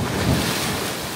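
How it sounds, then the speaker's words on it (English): Sea waves surge and wash against resort decking on the Malta coast, a steady loud roar of surf with heavy wind buffeting the microphone and no talk. "watch these waves crash against here"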